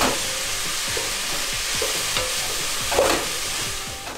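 Steady sizzling of chopped onions frying in olive oil, with stirring scrapes and clinks from a utensil in the pot, close up.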